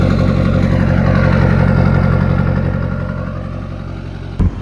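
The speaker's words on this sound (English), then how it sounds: "This is the absolute loudest truck I've ever drove, so hopefully the audio is pretty decent." LB7 Duramax diesel pickup truck engine running while driving, a loud, steady, rumbling drone with a clattering diesel tone that eases slightly toward the end, heard close up inside the cab with no talk.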